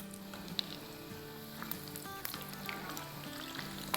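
Doughnut balls fry in hot oil with a steady, quiet sizzle and scattered pops, alone and close up.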